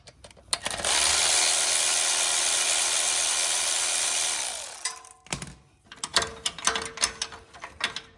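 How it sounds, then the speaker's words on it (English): A 10mm socket driving out the bolt at the bottom of a spring perch during a high-steer knuckle install: a loud, continuous mechanical whir for about four seconds, then a scatter of close clicks and metallic clanks. "now I'm going to be using a 10mm socket to remove this bolt, securing it to the bottom of the spring perch."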